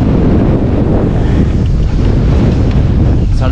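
Wind blowing at sea on a small fishing boat while nets are cleared, a loud constant buffeting roar against the microphone mixed with wash of waves, continuous throughout with no clear voices.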